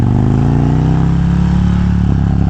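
A Harley-Davidson Road Glide performance bagger with a new clutch idles loudly and close, its V-twin rumble holding a steady, throbbing low pulse and rising slightly with revs, alone without talk.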